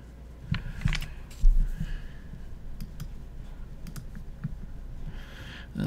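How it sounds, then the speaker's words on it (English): A computer keyboard clicks as a name is typed out, a run of light, uneven keystrokes at close range with no voice over them. "let's type her name out"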